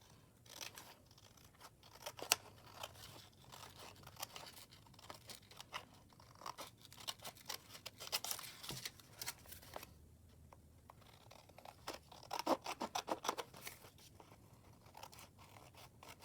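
Scissors trim paper for a junk journal page, a quiet, close series of short snipping and rustling sounds with scattered crisp clicks, no voices.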